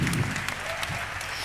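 A crowd at a cooking competition claps briefly, a short burst of applause at moderate distance.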